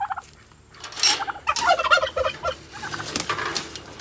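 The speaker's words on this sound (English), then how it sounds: "Here are my turkeys." Farm turkeys, including slate-colored birds, gobbling close by in repeated rapid rattling bursts that overlap one another, loud and with no one speaking.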